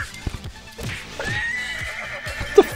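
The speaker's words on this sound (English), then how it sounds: "Why is there a horse in there?" A horse whinnies in the video game The Textorcist, its neigh rising clearly over busy game sounds, with hoof clip-clops and a couple of sharp knocks near the end.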